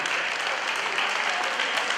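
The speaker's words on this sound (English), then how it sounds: "Now let's give a big round of applause." Sustained applause from the audience at a raw powerlifting deadlift competition, a dense, even wash of clapping filling the whole stretch without a break.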